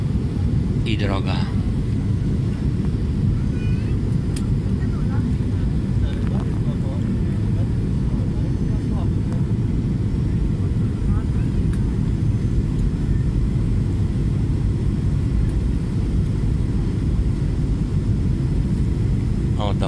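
A passenger airliner's engines drone in a steady, loud, low roar inside the cabin during the landing approach to Greece, with occasional faint voices and small clicks over the continuous rumble.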